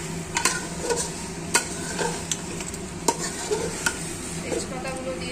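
Mutton pieces frying with onions in a cooking pot, giving a continuous close sizzle broken by regular sharp scrapes and knocks of a stirring spoon against the metal.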